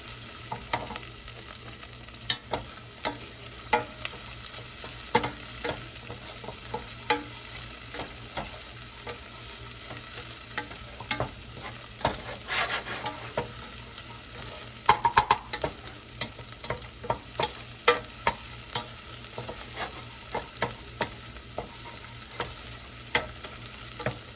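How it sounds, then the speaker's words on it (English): Shallots sizzling in a pan for a risotto base, a constant soft frying hiss broken by frequent scraping and clicking as a utensil pushes them around and along the sides, with no voices. "Constantly working these shallots around the pan, scraping down the sides,"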